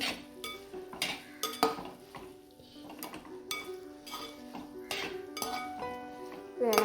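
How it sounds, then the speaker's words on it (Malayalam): A spoon scrapes and clinks against a pan as chili powder is stirred into a kovakka and vallipayar mezhukkuperatty, with repeated close metallic knocks and a voice talking underneath. "ഒരു സ്പൂൺ മുളക് പൊടി നമുക്ക് ഇതിലോട്ട് ഇട്ട് കൊടുക്കാം നമുക്കൊന്ന് ഇളക്കി കൊടുക്കാം"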